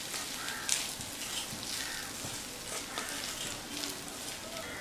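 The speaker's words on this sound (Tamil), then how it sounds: "பொடி உப்பெல்லாம் சேர்த்ததுக்கப்புறமா நல்லா ஒன்று போல் கலந்து விட்டுறலாம்" Cooked rice with garlic and powdered salt stirred together in a pan, a soft continuous crackling sizzle with faint scraping stirs throughout and no voices.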